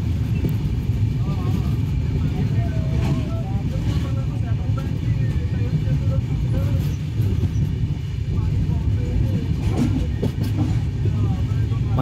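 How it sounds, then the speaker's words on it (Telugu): A train rolls slowly across the Godavari river bridge near Kovvur, giving a steady, heavy low rumble that continues unbroken from start to finish. "మన రైలు మెల్లగా బ్రిడ్జి దాడుతుంటే మన గుండు కొట్టిన రిథం కూడా దానికి సరిపోయేలా అనిపిస్తుంది"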